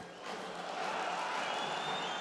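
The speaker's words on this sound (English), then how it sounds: "Local partisan crowd, of course, buoying him on." A local partisan crowd cheers at an amateur middleweight boxing final, a broad steady roar of voices with some clapping that swells slightly and holds loud throughout.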